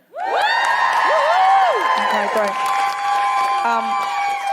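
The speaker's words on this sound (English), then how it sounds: "would you just give us a cheer?" A live podcast audience cheers and whoops loudly right after a brief spoken line. High, sliding voices ring out together over a dense crowd roar that holds steady.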